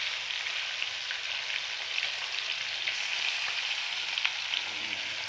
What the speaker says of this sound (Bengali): 10 মিনিট পরে এটা আবার কষা এই তেল গরম হয়ে মাংস ছাড়া হচ্ছে।